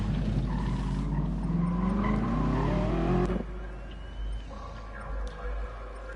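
Race car in Gran Turismo Sport, a loud sustained engine drone with tire squeal and skidding, pitch rising through about three seconds before cutting to a lower, quieter engine hum with brief bursts.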